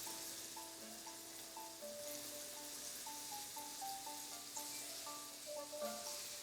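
Shrimp frying in a hot pan, a soft steady sizzle and crackle under background music with melodic tones, fairly quiet throughout.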